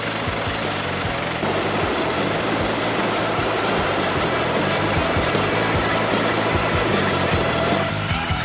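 A helicopter with a 39-foot main rotor hovers over a vessel and produces heavy downdraft. Its dense, loud roar holds steady from start to finish with no voices.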